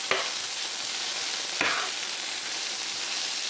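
Potatoes fry in a Scan Pan with a steady, close hiss of oil, broken by two sharp utensil clinks as they are turned.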